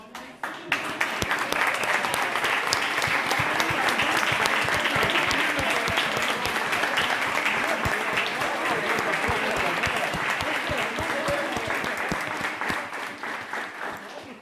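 Council chamber members give a long, steady round of applause honoring mothers, thick with individual claps throughout and fading near the end, with a few voices under it.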